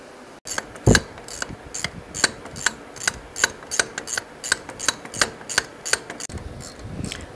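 Ratchet of a socket wrench with a 21mm socket clicking steadily while backing out caliper bracket bolts on a vehicle's steering knuckle, a quick close rhythm of about a dozen sharp metallic clicks after one heavier knock.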